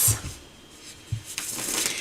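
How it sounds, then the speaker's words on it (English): Tarot cards being shuffled by hand, heard as a few quick riffling and sliding bursts close by with soft taps between them. "Let me shuffle these a couple times, and we'll get in it."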